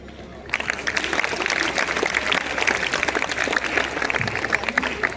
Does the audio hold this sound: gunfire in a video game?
no